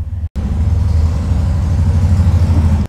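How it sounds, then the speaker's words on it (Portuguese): A motorcycle engine idles and pulses nearby in a low, steady rumble after a brief cut, holding constant loudness throughout with no talk over it. "Tem uma moto entrando aqui."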